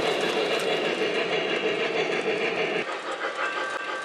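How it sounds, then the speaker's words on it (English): A model freight train hauled by a Y3B locomotive runs around a layout loop with a steady, dense rolling clatter of wheels on track. It is loud and continuous, and its tone shifts slightly partway through as the train moves on. "As the Y3B completes its loop, a second freight train comes into view."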